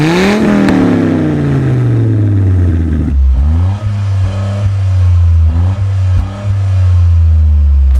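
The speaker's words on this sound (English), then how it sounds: "a 3-cylinder sounds like a hangry 5-cylinder" A Toyota GR Corolla's turbocharged 3-cylinder engine revs hard up and down in several loud, close bursts with deep, gravelly harmonics.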